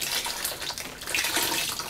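Ceramic glaze pours and sloshes out of a pottery piece as it is turned, a continuous close liquid gushing and splashing.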